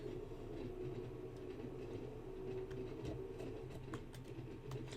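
A train coasting downhill with power off on the Isle of Wight line between Shanklin and Ryde Pier Head in Train Sim World 2, a low steady rumble with a faint rhythmic clatter of wheels on rail and a sustained tonal hum.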